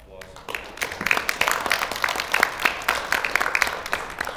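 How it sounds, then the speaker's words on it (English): An audience at a live poker event in a casino breaks into applause, a dense patter of many hands clapping that starts abruptly and continues steadily at moderate loudness. "So if you guys want to give them a round of applause."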